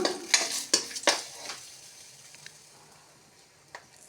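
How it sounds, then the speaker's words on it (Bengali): Bay leaves and dried chillies hit hot oil in a pan, giving a few sharp crackling bursts early on that settle into a soft, steady sizzle with an occasional pop. "তেজপাতা আর শুকনা লঙ্কা দিয়ে দিলাম।"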